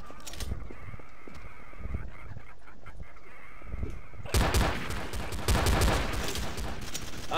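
Gunshots in a Garry's Mod zombie survival game, scattered shots over a steady game ambience, then a burst of heavy rapid fire in the second half, loud and close.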